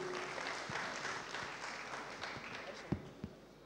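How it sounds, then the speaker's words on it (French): An audience applauds to welcome a speaker to the stage at a ceremony, a steady spread of clapping that continues at moderate volume for a few seconds and ends with a couple of louder claps. "Sous vos applaudissements,"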